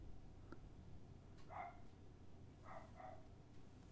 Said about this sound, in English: there's a little dog barking outside